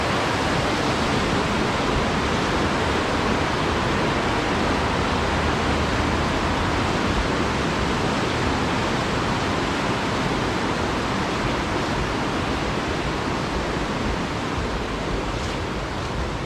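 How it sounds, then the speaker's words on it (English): A river running high and fast after rain, a loud, continuous broadband rush of water close by, steady throughout with no voices. "The river's running a little high from all the rain that we had"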